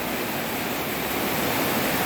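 Heavy rain during a storm, with water running along a road, a dense, even roar of hissing noise that stays loud and constant throughout, with no talking.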